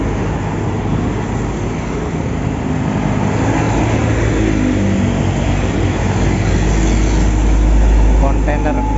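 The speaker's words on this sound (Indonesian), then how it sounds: "melaju pelan di lajur kanan. Trailer muatan baja ringan." A trailer truck loaded with light steel drives slowly past in the right lane of a highway. Its loud, close engine rumble and road roar hold steady and build toward the end.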